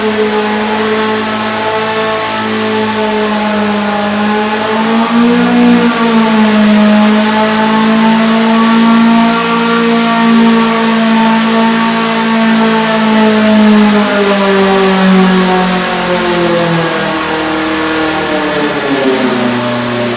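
A Volkswagen engine revs hard through a dyno pull, its loud, sustained roar climbing and falling in pitch over about twenty seconds, close and alone with no talk.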